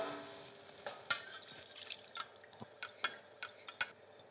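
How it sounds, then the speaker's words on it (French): Veal jus from cooking a veal chop being strained in a kitchen: soft pouring and dripping liquid with scattered light clinks and taps, fairly quiet, with no talking. "Je vais passer mon jus de veau."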